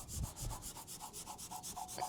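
A decal being rubbed firmly onto a tractor during restoration, steady rhythmic swishing strokes at close range, about a dozen regular passes with no talking.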